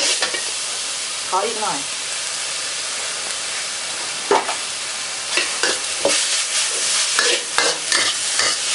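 Beef is stir-fried with holy basil in a wok, seasoned with fish sauce. A loud, steady sizzle and hiss carries scraping stirs, with a brief spoken voice near the start.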